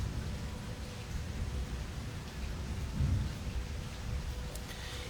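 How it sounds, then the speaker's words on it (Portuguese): Heavy rain pours steadily with a low rumble of thunder swelling midway, a constant dense hiss filling the background with no voices. "tá chovendo aqui com gosto"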